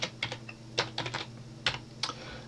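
Someone types a short title on a computer keyboard in quick, uneven bursts of close, crisp key clicks with brief pauses between them. No one speaks.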